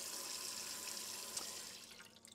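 Water runs steadily from the tap of a Globecar Globescout 600L campervan, a close, continuous hiss that thins slightly toward the end, with no talking.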